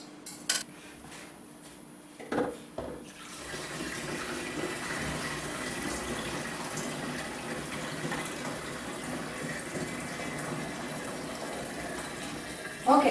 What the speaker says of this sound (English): we are going to keep adding warm water, 100 degrees to 105